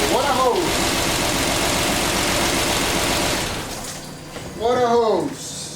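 A Mercedes M272 engine runs with water as coolant after a timing repair. A steady, loud mechanical roar drops partway through, with a voice speaking at the start and again near the end.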